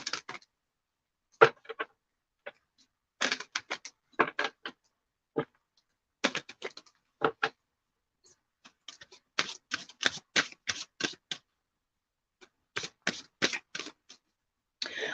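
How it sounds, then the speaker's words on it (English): Reading cards are shuffled and pulled, giving quick clusters of crisp, close clicks and flutters that come in bursts with short quiet gaps between them. "Let's pull some Heal Yourself reading cards."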